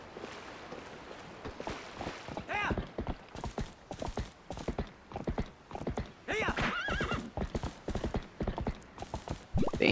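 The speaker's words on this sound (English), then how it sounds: "she's a big horse" A big horse in the video game The Legend of Zelda: Twilight Princess moves with loud, close clip-clopping hooves in an uneven trotting rhythm, broken by a couple of whinnies.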